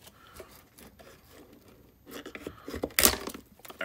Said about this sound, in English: I'm going to try and cut this piece off, and we'll take a look at what's under here.